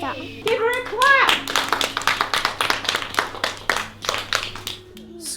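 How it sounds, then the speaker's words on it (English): Small group of listeners clapping for a young girl after she reads her writing aloud, roughly a dozen quick close claps in an uneven patter, with a voice and other speech heard over the start. "Give her a clap!"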